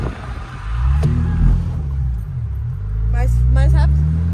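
Volkswagen Jetta TSI Stage 3 car drifting and accelerating, a low engine rumble rising and swelling near the end, with people talking over it.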